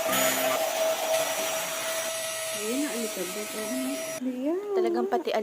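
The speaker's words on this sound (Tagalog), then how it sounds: "Kaya naman kung naghahanap kayo ng murang dust mite vacuum," A Gaabor dust mite vacuum cleaner runs with a steady, loud motor whine through most of the clip, then cuts off near the end while a voice speaks over and after it.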